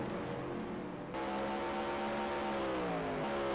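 Open-wheel roadster race cars with left-offset engines scream at about 150 mph down the backstretch at Salem Speedway, one steady, loud engine drone holding high revs before a slight dip near the end.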